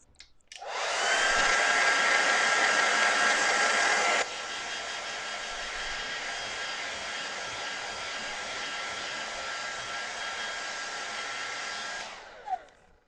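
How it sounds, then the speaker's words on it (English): A hair dryer drying watercolour paint roars steadily at close range, dropping to a lower setting partway through before clicking off near the end. "Now I need to dry it again. Bloody dryer."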